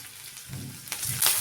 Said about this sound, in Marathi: त्यानंतर आलं आणि हिरव्या मिरच्या पण परतून घ्यायच्या आहेत